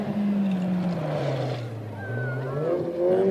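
A little Toyota Starlet Class A rally car driving a rally stage in New Zealand, its small engine droning steadily and dipping in pitch as it goes past, then rising again, fairly loud and close.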